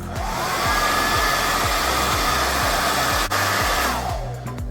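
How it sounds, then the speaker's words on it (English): Loud, steady roar of a hair dryer blowing close by on a wet car key fob, with a brief dip partway through before it winds down at the end. "I don't think she'll mind using her hair dryer either."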